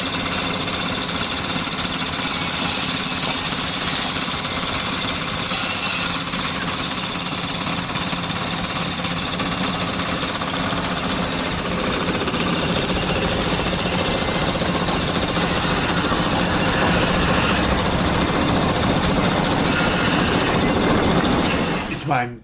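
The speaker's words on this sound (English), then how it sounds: "Come, let's listen to the excavator sound I recorded for you." Heavy demolition machinery works at a construction site in Midtown New York, a continuous loud hammering and grinding din with a harsh, broadband clatter that persists without pause before cutting off at the end.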